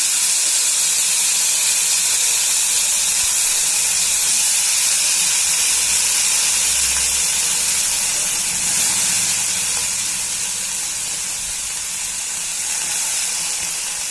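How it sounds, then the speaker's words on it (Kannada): Tomatoes frying in a hot pan for raw tomato chutney, a loud, even hissing sizzle that holds steady throughout and eases slightly near the end, no voices. "ಈಗ ಅದ್ರ ಒಳಗ ಇವು ಟೊಮೆಟೊ ಹಾಕೋಣ್ರಿ. ಫ್ರೈ ಮಾಡಿ ಟೊಮೆಟೊ."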